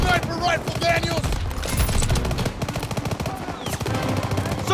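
Rapid machine-gun bursts and overlapping rifle shots crack loudly through a Call of Duty battle during Operation Cobra, a dense, nearly continuous barrage with shouted voices mixed in.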